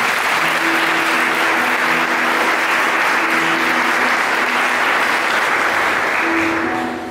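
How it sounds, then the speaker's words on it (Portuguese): A church congregation at a healing and deliverance service breaks into loud, sustained applause that fills the room and fades only slightly at the end. "Dê uma salva de palmas para essa palavra."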